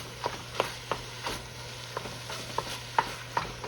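Ground beef for a meat sauce browns in a pan as a spatula scrapes and breaks it up in regular strokes, roughly three per second, over a low, faint sizzle.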